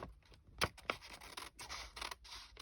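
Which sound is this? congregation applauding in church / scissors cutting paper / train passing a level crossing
scissors cutting paper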